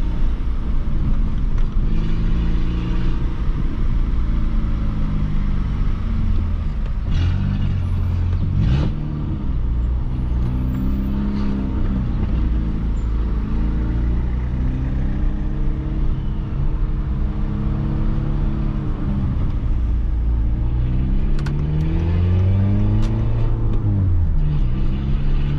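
Peugeot 206 car accelerating in a park, engine note rising and falling through several revving pulls over a steady rumble, close and loud with no talking.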